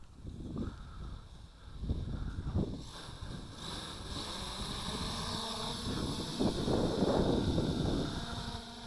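A Hubsan H501A quadcopter drone lifts off in an automatic takeoff, its rotor whine rising and holding steady amid outdoor wind noise at moderate loudness.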